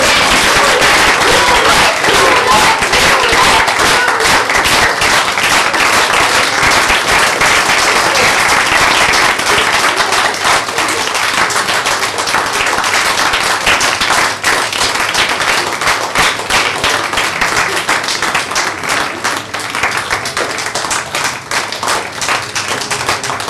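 A theatre audience gives long, loud, dense applause at an Agatha Christie stage play performance, steady clapping from a full house that holds for over twenty seconds and eases only slightly toward the end.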